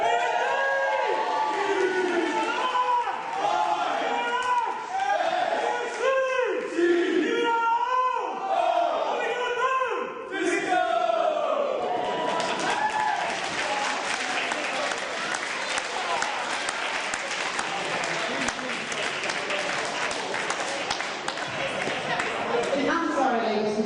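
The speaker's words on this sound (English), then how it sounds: "Can we have another round of applause for all of our speakers, please?" Wedding guests applaud the speakers at a reception, first with voices and cheering mixed in, then a sustained, dense round of clapping that stays steady and fairly close to the end.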